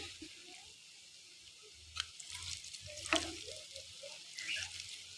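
Lentil fritters frying gently in oil over low heat, a soft continuous crackle with a few sharper taps and splashes as pieces are flipped in the pan.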